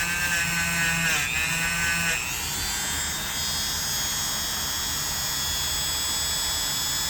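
A wire wheel scrubs rust off the tang of an old Schrade USA knife, a harsh, steady buzzing whine with brief shifts in pitch as the blade is pressed and moved against it, close and without talk.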